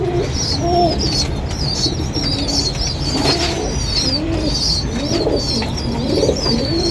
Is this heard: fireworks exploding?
no